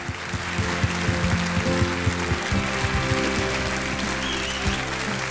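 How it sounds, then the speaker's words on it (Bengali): An audience at a televised stage show applauds, a dense, continuous clatter of many hands clapping at close range that holds steady throughout with no voices over it. "হাততালি হয়ে যাক।"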